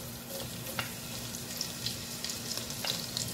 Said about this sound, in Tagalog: Ngayon po, ihuhulog po natin ang bawang